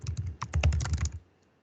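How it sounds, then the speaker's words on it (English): Quick, close keystrokes on a computer keyboard form a rapid burst of crisp clicking that stops abruptly, leaving near silence. "So if I type in,"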